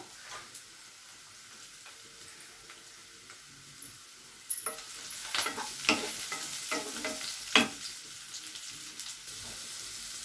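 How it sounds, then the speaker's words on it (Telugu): Ridge gourd pieces frying with onions and ginger paste in a pan, a soft sizzle that grows louder midway, with scraping stir strokes and clacks close by, no voices. "బీరకాయ ముక్కలు వేగుతున్నాయండి"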